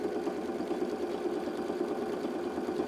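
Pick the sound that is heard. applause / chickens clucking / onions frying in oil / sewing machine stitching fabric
sewing machine stitching fabric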